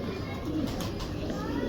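Pigeons coo softly in a loft, a low, steady murmur running under the whole clip with a faint burst of brighter noise near the middle.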